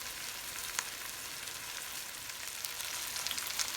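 Oxtails browning in a pan, a dense, even hiss of frying fat with small pops and crackles, close and steady with no talking.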